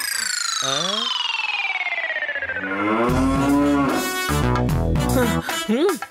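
Buffalo in a cartoon lets out long, loud, wavering cartoonish moos that slide downward, followed by a burst of bright background music with sharp accents.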